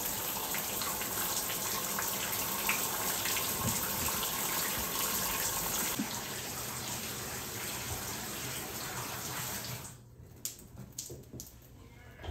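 Water pours steadily over a medical kit rucksack to mimic a rainstorm, a loud continuous gushing spray close by that stops abruptly near the end, leaving a few drips and light handling noise.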